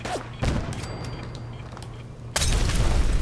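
A grenade explodes in Fallout 4 with a sudden loud blast near the start, then a heavier booming burst later, over a constant low game hum.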